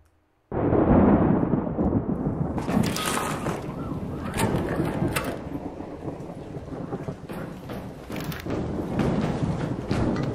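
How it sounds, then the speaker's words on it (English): A thunderstorm rages with steady heavy rain and rolling thunder, with several sharp, loud cracks of thunder bursting over the constant downpour, all without speech. "storm is currently raging over topside."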